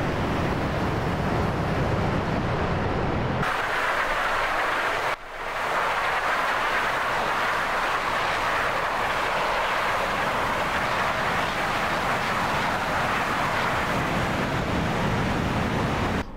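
The Su-25T jet in DCS World builds to a loud, steady engine roar on takeoff. Its broad, continuous rush drops out briefly partway through, then resumes and holds steady to the end.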